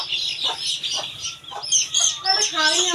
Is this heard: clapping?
no